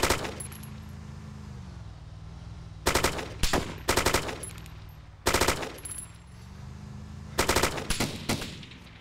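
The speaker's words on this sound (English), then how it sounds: "That was a weird gun." An odd-sounding gun in the Wasteland game fires in four short rapid bursts, each a loud crackling volley separated by a low steady engine-like hum.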